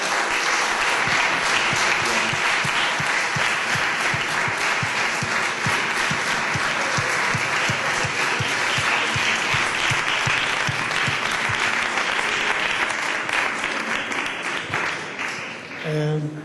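A seated audience rises for a standing ovation for a panel of veteran communicators: long, loud, steady applause with many hands clapping densely and evenly, tapering slightly toward the end.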